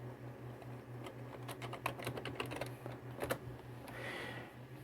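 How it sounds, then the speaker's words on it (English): A password is typed on the keyboard of an eMachines desktop computer as a faint run of uneven key clicks, some in quick bursts. A steady low electrical hum runs underneath, and no one speaks. "I'm typing my password in."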